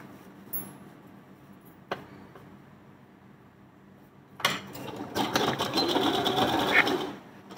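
Stitching along a blouse armhole, a sewing machine gives a few isolated clicks and taps through a quiet start, then bursts into a loud, continuous mechanical whir close by for the last few seconds.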